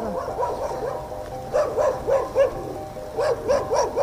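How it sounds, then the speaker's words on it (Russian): Several dogs bark outdoors in a loose series of yelping barks, moderately near and bunched toward the end, with no talk over them. "сейчас собаки сбегутся"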